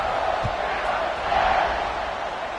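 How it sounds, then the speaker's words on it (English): A football stadium crowd roars steadily after a touchdown drive in a game against Baylor. The cheering is a broad, unbroken wash of noise, loud and sustained throughout. "this crowd is feeling themselves after that last drive"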